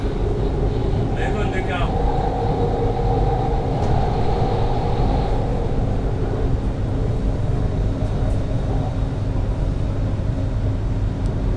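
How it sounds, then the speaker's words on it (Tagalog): Riding a metro train on the way home from work: a steady, loud rolling rumble of the carriage with constant low drone and a brief high squeal, while a person talks over it. "Sumakay tayo ng metro train."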